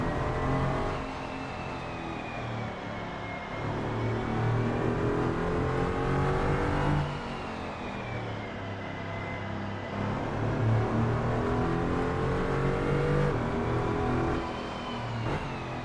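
Race car engine in Assetto Corsa on the Corso track in early morning, revving steadily and rising and falling through gear changes, loud and close, with no talking.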